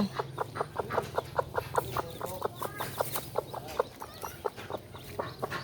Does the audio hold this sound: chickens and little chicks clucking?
yes